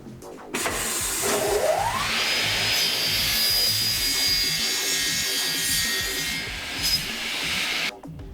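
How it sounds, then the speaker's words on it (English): A power saw cuts through 80 by 40 aluminium profile, starting with a rising whine as it spins up, then a loud, steady high-pitched grinding cut lasting several seconds before stopping abruptly. "First we have to cut our 80 by 40 aluminum profiles."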